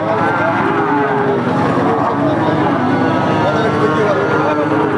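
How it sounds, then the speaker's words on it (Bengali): Native Bangladeshi cattle at a busy livestock market, with a low cow moo rising from dense crowd noise and continuous chatter throughout. "দেশি গরু দর্শক আপনারা শুনলেন"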